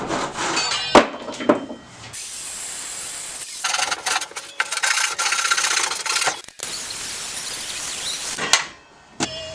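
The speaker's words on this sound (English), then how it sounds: "I'll just finish it out with a Japanese saw" Japanese hand saw finishing a cut through a thick live edge wood slab, with rough rasping strokes, some long and steady, broken by brief knocks and pauses, close up.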